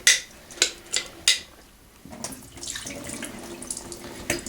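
Homemade butter is rinsed under a running kitchen tap. A few sharp clinks come first, then water pours steadily and close with a bright splashing rush, and nobody speaks.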